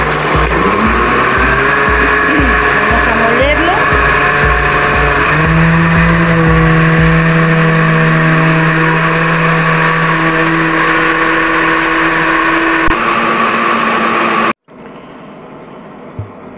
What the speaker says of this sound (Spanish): la vamos a moler para incorporarla con el agua que ya está hirviendo